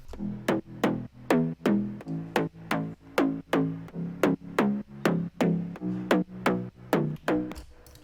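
Punchy slap house bass from Serum repeats in a fast, even stream of short stabbed notes, roughly two per second, each with a crisp bright attack and quick decay, heard close and alone with no voice.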